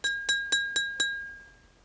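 A full glass of water is tapped five times in a steady rhythm, each strike giving a clear ringing tone that decays slowly, close and fairly quiet with no talking.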